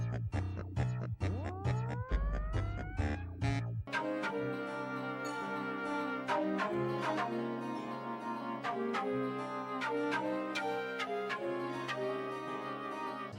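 Quirky, bouncy electronic music from the second Pikmin game, with rising pitch sweeps and plucky notes, settling into a steady upbeat groove with bright melodic chimes.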